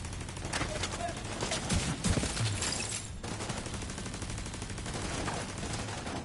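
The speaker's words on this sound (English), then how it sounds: "That is a lot of gunfire." Rapid gunfire in the video game The Division 2, dense automatic bursts and volleys rattling continuously at moderate level through the whole stretch, with brief speech mixed in.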